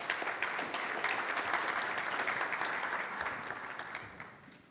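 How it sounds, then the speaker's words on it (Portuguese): An audience at a sugarcane cultivation innovation panel at Jalles Day applauds César Barros, CEO of the Centro de Tecnologia Canavieira, in steady, dense clapping that carries on throughout and fades slightly at the end. "Palmas para o César."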